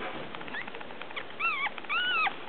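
A small puppy whimpers in high, wavering whines, a few thin cries rising and falling over faint background noise, close by.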